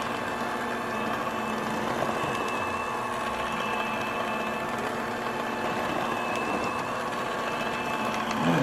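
An electric mixer hums steadily and loudly at close range for the whole stretch as it mixes brownie cookie dough with the dry ingredients, with no pauses.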